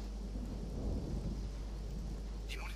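Rain pours steadily in the WWII strategy game Stalingrad, a continuous close hiss over a low rumble that sounds like a thunderstorm, with a brief faint chirp near the end.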